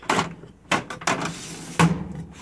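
A cabinet drawer packed full of makeup and face-mask supplies is tugged open in stiff, tight pulls, giving several short scraping bursts close by with brief pauses between them.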